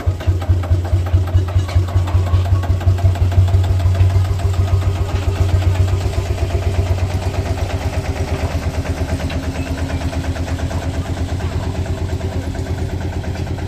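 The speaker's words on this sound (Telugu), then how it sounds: "ఈ లోకోమోటివ్ 1951లోది, డీజిల్తో నడుస్తుంది." A 1951 diesel field railway locomotive idling at a Feldbahn in Leipzig, a close, loud engine chugging in an even pulsing rhythm that gradually settles to a slightly quicker, lighter beat.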